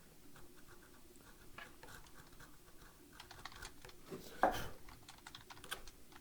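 Sharp chisel pared by hand across a walnut tenon, faint scraping and tapping cuts in an irregular rhythm, close and quiet, with one brief louder scrape.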